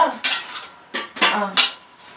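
Metal idli plates being set one by one into a steamer pot, producing several distinct clattering clanks spaced out over a couple of seconds, close and loud with no talk over them.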